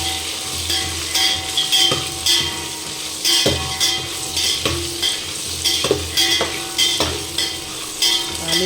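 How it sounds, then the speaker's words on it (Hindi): Potatoes and soybean chunks fry together in a pan, a steady sizzle broken by repeated scraping and tapping of a spoon against the pan as the mix is stirred, fairly close and without talk. "दोनों को साथ में फ्राई करते हैं।"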